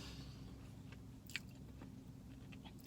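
Someone quietly chews a Crumbl chocolate chip cookie close to the mic, with soft crunchy bites and one sharper snap amid faint background hiss and no talking.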